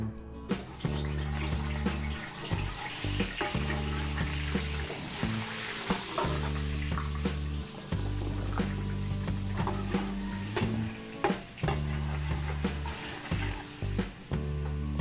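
Margarine and oil sizzle steadily in a hot frying pan, with crackling pops and occasional stirring clatter over a continuous low hum, loud and close throughout.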